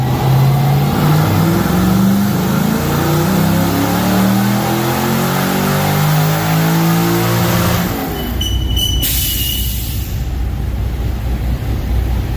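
An LS-swapped V8 in a Porsche 911 with a mild cam revs hard on a dyno and climbs steadily in pitch, loud and close, then cuts off abruptly and drops to a lower rumble.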